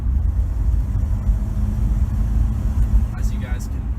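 A low, steady engine rumble from a 1967 Plymouth Valiant slant six drones throughout, close and continuous, as if heard from inside the moving car, with a faint higher whine near the end.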